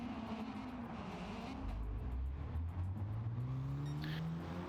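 GTO rallycross race car exiting the final corner during a heat race: a rising, revving engine drone climbs steadily in pitch as it accelerates, heard at a fair distance and fairly faint, with a brief squeal near the end.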